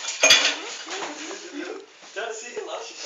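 A small spoon clinks and scrapes against a dish of milk porridge being fed to a baby, with a sharp metallic tap near the start followed by softer scraping, while people talk over it.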